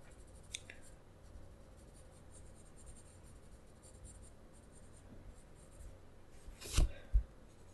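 Coloring pencil shading on paper, a soft, continuous scratchy rubbing close by, with a couple of brief louder taps and scrapes near the end.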